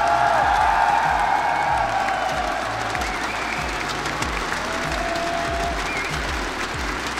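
A large esports arena crowd at the grand finals of a Rainbow Six Pro League event applauds and cheers in a dense, steady roar of clapping that carries through the whole stretch.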